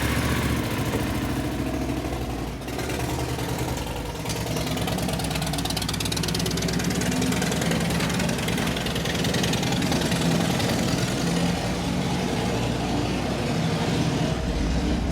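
A bikers' group's motorcycle engines in Algeria idle and rumble together in a dense, continuous mechanical roar, close and loud throughout with no talk.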